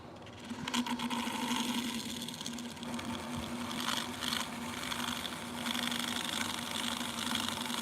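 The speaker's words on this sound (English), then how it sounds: "We're gonna go ahead and start with this side and grind down to remove the glue" A small power grinder works down old glue on a rock, giving a steady whining buzz with slight surges as pressure on the stone shifts, close and moderate, with no talking.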